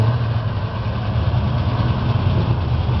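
A 1957 Chevrolet with a 383 engine idles nearby, a steady low rumble with a slightly uneven lope, heard alone without voices.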